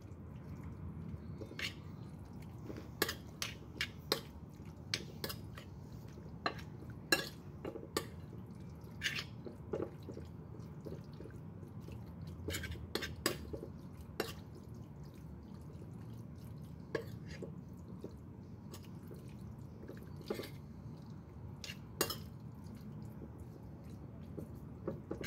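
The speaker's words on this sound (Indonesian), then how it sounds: "Aduk hingga sampai semuanya tercampur merata." Oil-coated mixture being stirred in a bowl for an everyday home-cooked dish, giving soft wet squishing and dripping textures with repeated sharp clicks of the utensil against the bowl, steady and close throughout.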